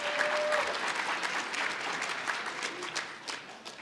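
Audience members at a charity breakfast event clap together in a steady, sustained round of applause that fills the room, moderately loud and continuous, with no talking over it.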